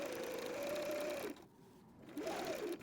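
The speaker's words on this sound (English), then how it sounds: "we're going to be sewing around, right around here, kind of close to this edge" A sewing machine stitches fabric bunting near its edge, humming steadily at close range, pausing briefly before running again, with no talk.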